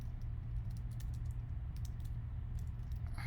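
Quick, irregular keystrokes tapping on a computer keyboard while a short greeting is typed, close and clear over a low steady hum, with no voices.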